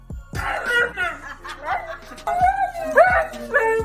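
A dog yelps, whimpers and gives short barks while being bathed, the cries coming close and loud in uneven bursts with brief pauses between them.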